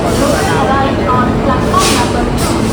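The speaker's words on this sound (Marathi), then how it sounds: "बघा ट्रेन आले" Loud steady rumble of a Konkan Kanya Express pulling into a station in Ratnagiri, with rattling carriages and squealing wheels, and voices talking close by on the platform.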